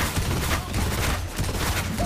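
Rapid gunfire fills the mobile battle royale game Honor of Kings: Breaking Dawn, a dense, continuous burst of shots with no pause and loud throughout.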